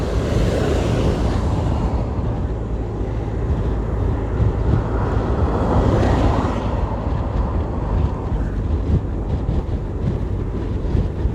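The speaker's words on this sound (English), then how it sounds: "with this heavy headwind" Strong headwind buffets the microphone at a cycling race in Belmopan, producing a loud, continuous low roar and rumble with gusty surges, and no clear speech over it.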